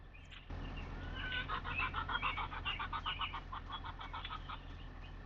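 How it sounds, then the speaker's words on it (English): Farm chickens cluck and chatter continuously in Farming Simulator 25, a busy flock at close range with overlapping short calls over a low steady hum, and nobody speaking. "Let's hang out with the chickens for a couple minutes."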